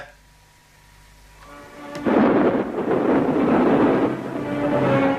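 Thunder crashes in for Perkūnas, the thunder god, in a Lithuanian audio drama: near silence gives way to a sudden loud roar that rolls on heavily to the end, with no voices.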